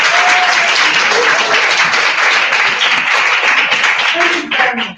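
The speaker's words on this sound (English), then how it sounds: "the way you're clapping, sir, they're clapping like people without confidence." Workshop audience applauding steadily for about five seconds, a dense, loud wash of hand claps that tapers off at the end as a voice begins to speak.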